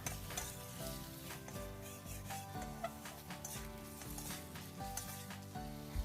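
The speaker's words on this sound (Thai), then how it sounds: "จากนั้นให้เพื่อนๆ ผัดไปเรื่อยๆ" Panang curry paste stir-fries in a little vegetable oil, with a continuous crackling sizzle and busy scraping from constant stirring. A few soft clinks come through, and no one talks.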